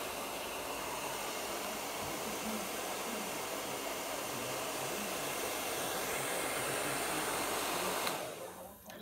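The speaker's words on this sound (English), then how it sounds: "So that's just on a cold setting on that hairdryer, of course, having it on the floor." Hairdryer running on its cold setting, lying on the floor: a steady, loud airy whoosh with a constant hum, unbroken for about eight seconds before cutting off and fading at the end.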